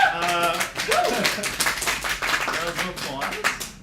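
Audience clapping at a live outdoor season finale gathering, uneven, close handclaps under a speaking voice throughout.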